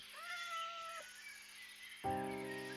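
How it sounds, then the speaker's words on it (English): Cat meowing inside the Minecraft video game, two drawn-out tonal meows followed by a louder, brighter one, clear and close over soft game background. "There's a cat here."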